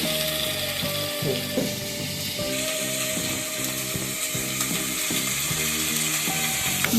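Tuna pieces frying in a pan for fish biryani, a steady close sizzle with rhythmic mechanical clicking running throughout, no talking.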